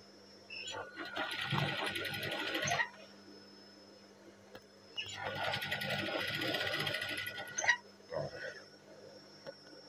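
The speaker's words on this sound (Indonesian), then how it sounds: "Jahit pelan-pelan ya, jangan sampai ada yang terlipat." Sewing machine stitching fabric slowly, two sustained bursts of whirring motor sound separated by a pause, close and moderately loud, followed by a brief third burst near the end.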